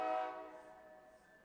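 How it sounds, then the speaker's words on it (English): Train horn from trains passing near a station beside an office, a loud sustained harmonic blast that swells at once and then fades steadily over a second and a half. "trains are pretty loud here. The new office is very close to the train station"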